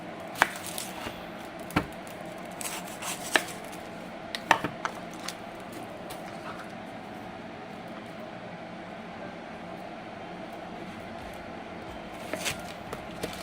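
A knife chops sweet onions and green beans on a board at home, giving sparse, sharp, separate chops spread across the stretch over a steady low kitchen hum, with no talk.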